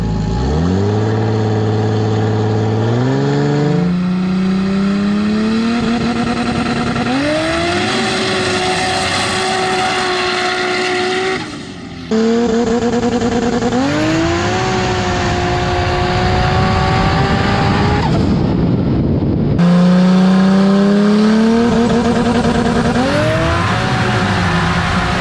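1000-horsepower 2JZ-powered Polaris RZR accelerating in sand dunes at Little Sahara, a loud, close engine roar climbing in pitch through several hard pulls and gear changes, with a brief drop in power midway.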